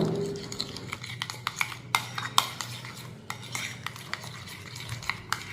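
A spoon stirs a blend of aloe vera gel and oil in a bowl, giving repeated scraping and clinking strokes against the bowl's sides in an uneven rhythm, close and clear with no talking.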